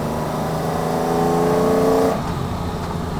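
A 1960s Jaguar XJ13 Le Mans race car driven on a public road, its engine loud and close, rising in a strong rev before dropping off abruptly, with no talk over it.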